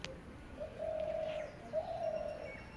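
A Greater Coucal calls from inside a tree, two deep, resonant hooting notes one after another over quiet outdoor background.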